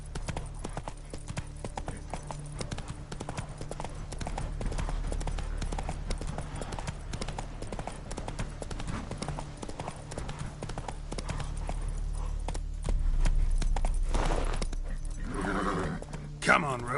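Steady clip-clop of horse Roach's hooves in a video game, a continuous brisk rhythm close by with a rider's voice urging the horse on over it.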